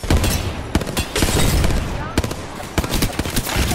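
Rapid bursts of gunfire from an Apex Legends match crack in close, loud volleys with brief gaps, automatic rattles mixing with single sharp shots.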